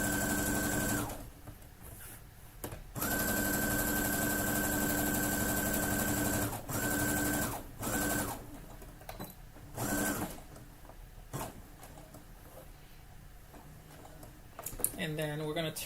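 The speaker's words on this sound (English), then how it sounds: "go back here and continue sewing from the other end. I am going to back stitch, again using a 1/4 inch seam allowance." A domestic sewing machine back stitches a drawstring bag seam at a quarter-inch allowance, running in several bursts of rapid mechanical whirring separated by pauses, with a person talking over and between the runs.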